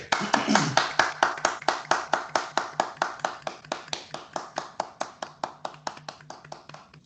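A church congregation claps in steady unison for a brother, the sharp beats evenly spaced and loud at first, then gradually softening over the stretch, with faint voices beneath.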